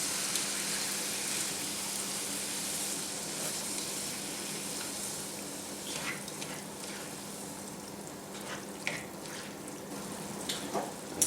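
Tinned chopped tomatoes with their juice tipped into a hot pan of minced beef sauce, a continuous wet sizzle and bubbling that gives way to scattered clinks and scrapes as the mixture is stirred.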